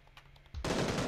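Gunfire in PUBG bursts out suddenly after a quiet moment: a loud, dense volley of rapid shots, close and sustained, with no talk over it.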